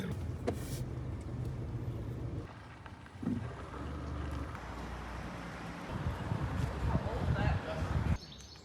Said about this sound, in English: There's a bigger car coming.